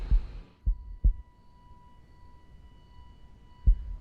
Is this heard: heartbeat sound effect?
yes